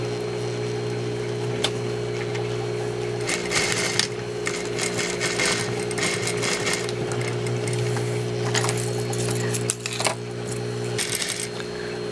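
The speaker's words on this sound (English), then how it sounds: "pinned so I can sew this last piece" Sewing machine stitching the skirt piece of an office chair slipcover, a steady close mechanical hum with rhythmic needle clatter running continuously, swelling in busier bursts, with no talking.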